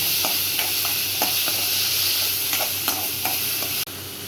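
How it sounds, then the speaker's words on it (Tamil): Onions with a pinch of salt sauté in a pan for a spiced eggplant and chickpea pepper curry, a steady close sizzle broken by regular scraping strokes of a spoon. "உப்பு கொஞ்சம் போட்டு வெங்காயம் நல்லா வச்சுட்டு வரணும்."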